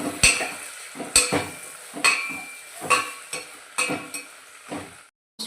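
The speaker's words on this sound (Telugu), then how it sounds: "ఇప్పుడైతే మనం ముందుగా కడిగి పెట్టుకున్న పుట్టగొడుగులు వేసుకుందాం." Washed mushrooms fry in a pan with a soft sizzle and about six slow, evenly spaced stirring scrapes with light metallic clinks, close and fairly loud, stopping abruptly near the end, with no speech.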